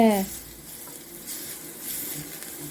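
Ginger and garlic frying in a pan give a steady, close sizzling hiss that runs through the whole moment, opening with a brief vocal tone and then continuing alone.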